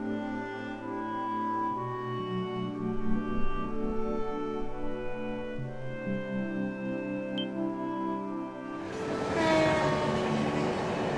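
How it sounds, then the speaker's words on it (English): A train rolls past at night in the video game Trails From Zero, a steady rumbling hum that grows into a louder rushing clatter toward the end, with no voices. "Nice train."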